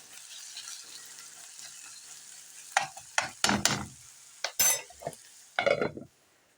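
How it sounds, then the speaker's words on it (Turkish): Onions and tomato paste fry in a pan for a menemen-style dish, giving a soft, steady sizzle. A spoon stirs through it in several louder scraping sweeps during the second half. "Soğanlarımızın da yanmaması için ara ara soğanlarımızı karıştırıyoruz."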